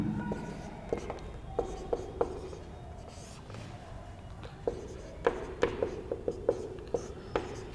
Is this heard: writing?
yes